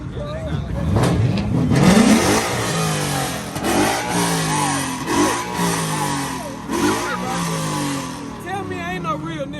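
A very loud Ford Mustang revs hard at a car meet, engine roaring and rising in repeated pulls close by, with people talking and shouting over it.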